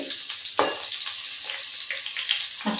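Green chilies and ginger frying in oil for an amla pickle, a steady close sizzle with crackling spatters and no talking.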